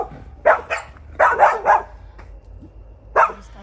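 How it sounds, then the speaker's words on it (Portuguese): Dogs on a rural country property bark in several loud bursts, a couple of close barks, then a pair, then one more after a pause, with no talk over them. "Os cachorros estão agitados."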